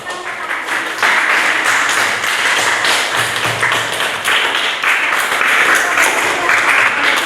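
Students in a classroom during a lesson break into applause: a burst of many hands clapping starts after a brief quiet opening and continues evenly and fairly loud to the end.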